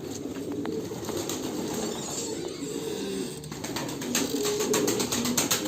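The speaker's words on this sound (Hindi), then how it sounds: "कबूतर बहुत ज़्यादा इसको पसंद करते हैं" Pigeons are fed by hand and respond with nearby fluttering wing flaps and soft cooing. Rustling and movement run steadily underneath, and no one speaks.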